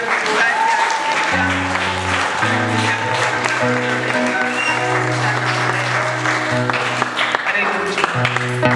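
Church congregation clapping for Jesus at an Easter seminar, a loud, continuous clatter of applause layered over organ or keyboard music with sustained chords.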